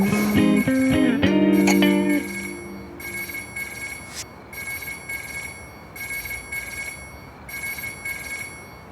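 After a brief burst of tones as a call is placed, a telephone ringback rings in repeated evenly spaced pulses, moderately loud and alone.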